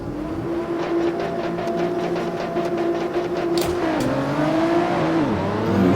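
Race cars in Assetto Corsa, a grid of Lotus and BMW machines, launch from a standing start with loud sustained engine drone, revs climbing and gear changes dropping the pitch, with several engines overlapping up close and no voices.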